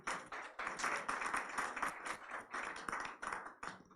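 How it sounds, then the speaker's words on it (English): Dense applause from an audience at a formal signing ceremony for a letter of intent, rendered as a steady patter of many hands clapping that swells and dips over four seconds. It stays fairly quiet and distant, with no talk over it. "Thank you very much for that applause."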